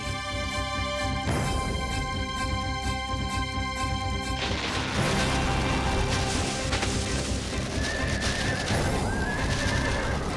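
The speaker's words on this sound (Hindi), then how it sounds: "घोड़ा आगे जाने से डर रहा है।" A frightened horse whinnies loudly, refusing to go forward, its shrill neighs set against a dramatic orchestral score with crashing effects from a Sai Baba devotional film.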